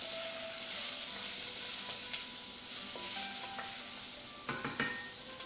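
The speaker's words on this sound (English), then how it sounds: "I'm going to give that a good stir." Tomato paste stirred into a cioppino base in a pot, a steady close sizzle with faint scraping and a few light taps of the spoon near the end, no voices present.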